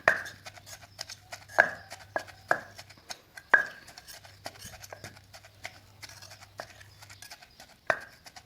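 A pestle pounds chili paste in a mortar for a Thai mackerel dip, giving sharp, close thuds at an uneven, steady pace with a faint background hum and no speech.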